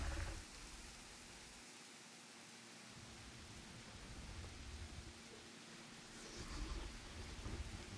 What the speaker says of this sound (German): Das sieht so cool aus bei Regen.